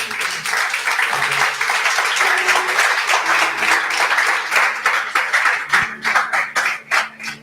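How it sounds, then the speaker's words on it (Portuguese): Church congregation applauding during an evening service, a dense sustained wash of clapping that breaks into more distinct claps toward the end, with faint voices underneath. "Você pode dar um aplauso a Jesus?"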